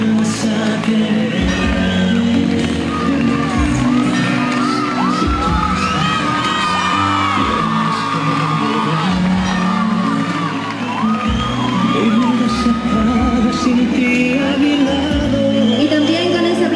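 Crowd at a Miss & Mister pageant night erupting in sustained cheering, whoops and shouts with applause and high excited voices, loud and continuous throughout, a rhythmic thumping beat underneath.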